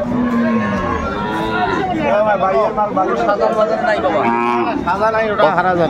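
A low, drawn-out cow moo sounds near the start amid a busy crowd of people talking and chattering close by at a cattle market in Dinajpur, Bangladesh.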